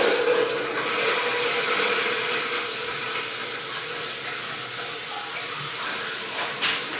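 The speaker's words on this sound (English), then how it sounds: "just checking the toilet fill" Water rushes steadily into a toilet tank as it refills after a broken flange repair, a continuous hissing flow held at even loudness throughout with no talk.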